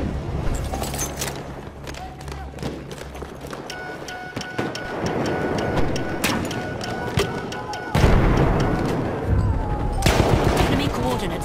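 Battlefield 1 video game battle with artillery fire, heard as dense bursts of booming and crackling gunfire mixed with distant rumbling blasts, growing louder and heavier after the midpoint.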